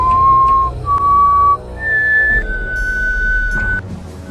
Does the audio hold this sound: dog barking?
no